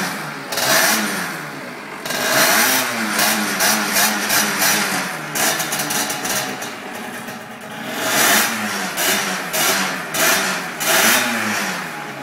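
A newly built JSM 50cc motard learner-legal geared moped revving loudly and repeatedly while its carburettor is set up, the small engine rising and falling in a buzzy rhythm close by.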